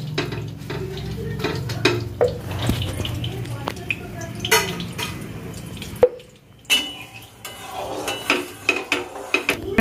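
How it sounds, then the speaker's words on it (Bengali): Pieces of bottle gourd go into hot ghee in a pan for a sweet halwa, with clinks of a spoon against the pan, scattered knocks and light sizzling while someone talks. "আমি এই লাউটা এর মধ্যে দিয়ে দিচ্ছি ঘিয়ের মধ্যে, এটা আমি ভালো করে ঘি দিয়ে ভেজে নেব।"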